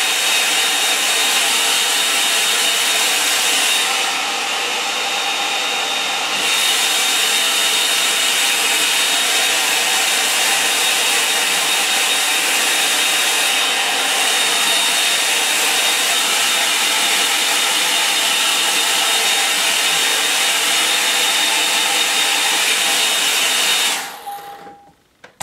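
A hair dryer blows steadily and loudly over a wet-in-wet watercolour landscape painting, a continuous airy roar with slight shifts as it moves, then cuts off abruptly near the end.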